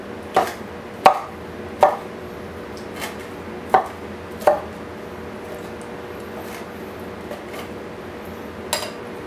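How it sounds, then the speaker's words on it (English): A knife chops Hawaiian pizza ingredients into small pieces on a cutting board, giving sharp, distinct thuds in an uneven rhythm, about six close together early on, then a pause and one more near the end. "And then just cut it into small pieces."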